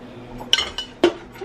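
Ground turkey, green peppers and onions are moved into a pot, giving a few sharp metallic clinks and scrapes of a utensil against cookware, spaced irregularly over a faint background hum.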